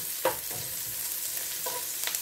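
Garlic browning in a hot frying pan gives a steady, close sizzle throughout, with a few soft scraping stirs breaking through the constant hiss.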